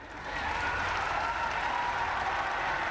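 A college ceremony audience gives teachers a loud, steady round of applause, many hands clapping in a dense, unbroken wash for the whole stretch.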